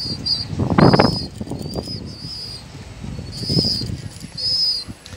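Pigeon chick flapping its wings while being hand-fed, with bursts of close wing flutter, a strong one early and another midway, alongside soft high chirping peeps.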